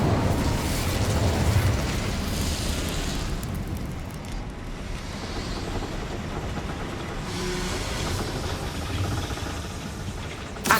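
Incendio fire spell cast in the Hogwarts Legacy video game, a loud sustained burst of roaring, crackling flame with booming rumble that holds steady for about ten seconds.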